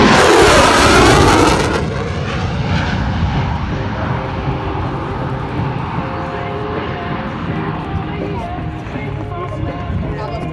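An F-16 Viper fighter jet flies past at the Oshkosh airshow in Wisconsin: a loud, tearing roar that peaks at the start, then a long, rumbling fade as the jet moves away, with a crowd talking underneath.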